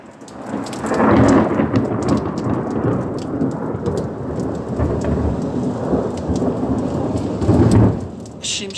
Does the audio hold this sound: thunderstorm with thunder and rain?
yes